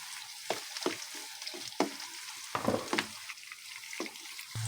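Garlic, onion and potatoes sautéing in a frying pan, a steady close sizzle broken by repeated scraping stir strokes.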